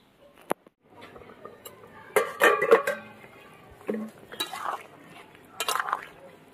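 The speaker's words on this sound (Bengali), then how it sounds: "এবার আমি ঢাকা দিয়ে দেবো।" A metal lid clinks and clatters onto a cooking pot of ilish fish and new potatoes, several short close clanks in quick bursts with quiet gaps and faint talk in between.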